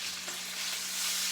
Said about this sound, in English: Time to flip these steaks.